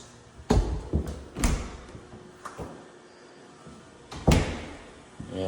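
Closet doors inside a house slide and bang shut several times: a series of close, hollow wooden knocks and clunks with short quiet gaps between them.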